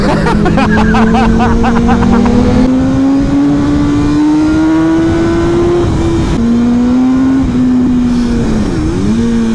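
A BMW S1000R motorcycle engine revs hard during a wheelie, a loud sustained drone that rises and falls in pitch with throttle changes, recorded close.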